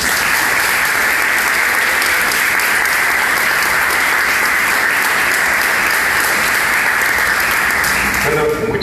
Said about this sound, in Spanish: les pido un fuerte aplauso para recibirlo